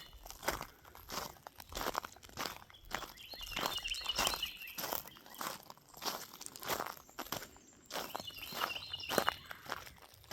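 Footsteps crunch along a gravel road near a cabin, a steady walking rhythm of crisp, close crunches with faint birds chirping in the background.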